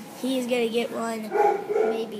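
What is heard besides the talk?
dog barking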